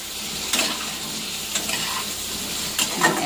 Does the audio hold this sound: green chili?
yes